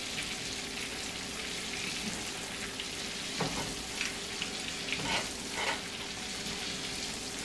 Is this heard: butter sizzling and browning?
yes